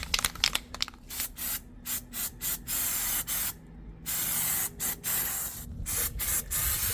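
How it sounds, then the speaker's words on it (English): An aerosol can of rubberized undercoating sprays onto the underside of an RV in a string of short, loud hissing bursts broken by brief pauses, close up. "I got some rubberized undercoating."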